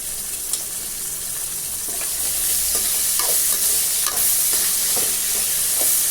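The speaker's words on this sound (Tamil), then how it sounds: "தக்காளி கரைஞ்சி வர அளவுக்கு வதக்கி எடுத்துக்குவோம்" Chopped tomatoes sizzle in hot oil with onion and ginger-garlic paste while being stirred, a steady frying hiss with scraping stir strokes that grows louder partway through.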